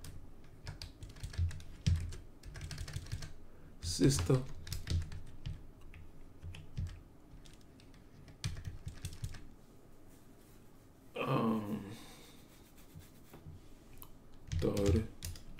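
Clicky, rapid keystrokes on a computer keyboard during game development in Unity, coming in uneven bursts with short pauses, close and fairly quiet, while a person speaks briefly a few times.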